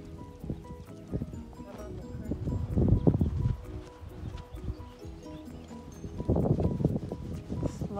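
Hooves clip-clop at a slow, uneven walking pace, close by, with occasional rustling and a murmur of voices in the background.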